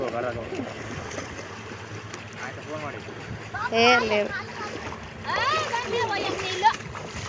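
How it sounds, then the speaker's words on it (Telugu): Children kick their legs in water, sending out scattered splashes and splatters while kids chatter and call out nearby. "వాటర్లో కాళ్ళు కొట్టడము"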